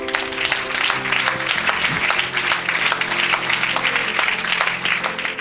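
A church congregation at a Christian gathering in Lille applauds steadily and loudly throughout, with sustained instrumental tones and crowd noise underneath.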